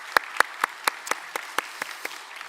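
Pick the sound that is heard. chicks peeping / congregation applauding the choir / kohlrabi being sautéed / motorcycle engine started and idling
congregation applauding the choir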